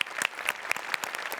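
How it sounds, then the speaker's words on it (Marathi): A brief, lively burst of audience clapping at a Marathi comedy show, Hasya Jatra, with crisp individual claps close together. "जोरदार टाळ्या"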